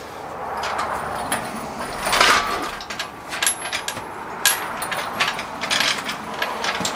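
A transmission is bolted onto a homemade stand in a workshop, with irregular bursts of ratchet clicking and sharp metallic clanks, close and moderately loud.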